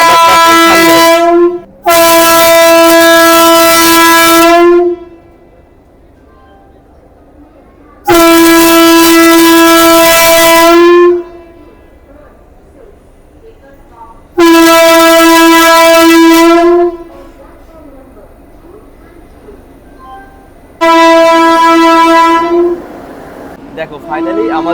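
A Vande Bharat sleeper train pulls into platform 2 at Kamakhya railway station. Its horn sounds four loud, long blasts close by, with quieter station rumble between them.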